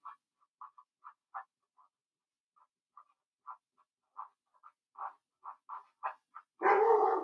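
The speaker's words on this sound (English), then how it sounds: "you'll occasionally hear my dog barking because, believe it or not, the mailman is here" A dog barks at the mailman in a series of short, sharp, fairly distant yaps at an irregular pace, ending in a louder, longer bark burst, with no talking.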